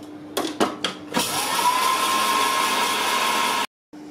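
Small electric grinder pulverizing anise seeds, starting with a few short bursts and then running in a steady high whine for over two seconds before cutting off, close and loud.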